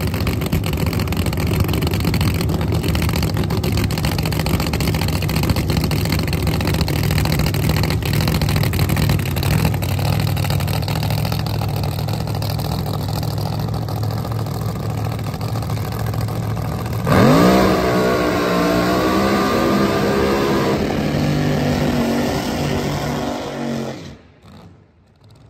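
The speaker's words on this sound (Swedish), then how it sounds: "det var en schysst burnout" A 5000 hp pro mod drag car engine roars at a steady heavy idle, then revs hard into a loud, sustained burnout scream before cutting off abruptly, very close and loud with no talk.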